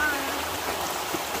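Fast-flowing stream water at a scenic outdoor spot, a steady broadband rush that is close and continuous for the short moment, with no talk over it.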